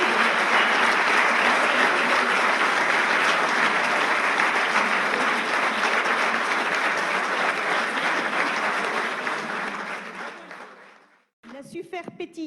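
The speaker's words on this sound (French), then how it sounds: "je vous demande d'applaudir Julie Dupetit" Audience at a company convention applauding an honoured employee, a loud, full crowd ovation that holds steady for about ten seconds, then cuts off abruptly before a brief burst of talk.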